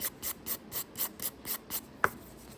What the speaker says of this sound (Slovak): Dobre sa zahladzuje, 180 pilníček úplne stačí,